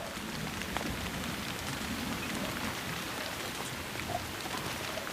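Steady, moderate monsoon rain falls continuously, a dense hiss of drops hitting surfaces with no voices.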